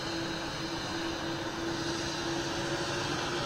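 A big jet engine slowly spooling up at an airport, a steady broad roar with a sustained whine rising gently in pitch, heard from a distance and continuous throughout.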